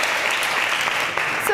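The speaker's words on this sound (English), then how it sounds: "I clap for the good news" A short burst of dense audience clapping at an International Women's Day conference, steady and close throughout.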